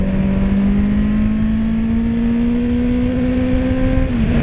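A sport motorcycle such as a Kawasaki Z750 or Honda CBR1000RR or CBR650FA rides along a country road, its close engine drone holding steady and slowly climbing in pitch under rushing wind, then dipping briefly at the end.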